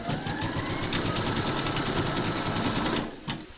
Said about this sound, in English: You're now going to stitch round number five, and that's going to give you a placement outline for your peppermint candy.